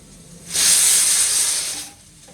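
A pressure cooker cooking rice lets out a single loud, close burst of hissing steam lasting over a second, then fades.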